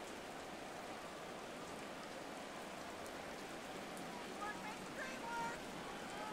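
Driving rain pours steadily over an outdoor football game in the closing seconds, a dense continuous hiss with a faint crowd murmur and occasional brief tones underneath.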